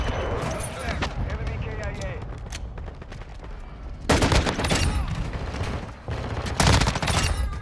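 Rapid gunfire from a full-auto Desert Eagle pistol in Modern Warfare 2 comes in two loud, dense bursts in the second half, after a stretch of softer game noise and scattered shots.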